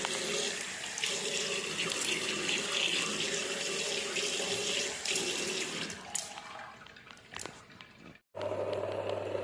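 Water runs from a tap into a sink as a towel is soaked in hot water, a continuous close splashing stream that thins out near the end, cuts off briefly, then resumes as a low hum.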